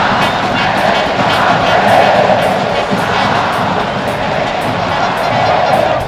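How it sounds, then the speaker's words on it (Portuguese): Football fans chant together in the Arruda stadium during a Santa Cruz match against América, a dense, steady roar of massed voices heard from a distance that carries on without a break. "A torcida cantou o hit."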